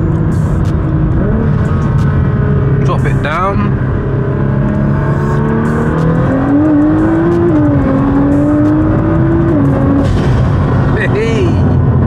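A tuned 840 bhp Stage 5 Nissan R35 GT-R drives on the road with a loud, steady engine drone that climbs in pitch as it accelerates through the gears, while someone talks over it.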